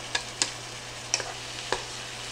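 Spoon stirring a paprika and dried parsley mixture in a pan, with a few separate sharp scrapes and clinks spaced across the clip over a low steady hum, close and fairly quiet.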